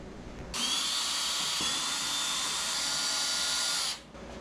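A power drill with a clutch whirs steadily for about three and a half seconds, backing out the fasteners on the ACS three-piece front splitter of a C8 Corvette Stingray, close and loud with no talk.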